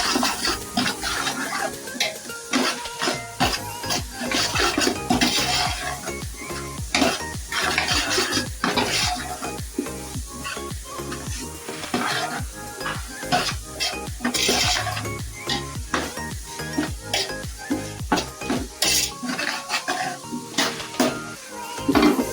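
Green chillies sautéed in a pan for a beef dish, with near-continuous stirring: spoon scraping and clinking against the pan over a low sizzle, busy and close throughout, without talk.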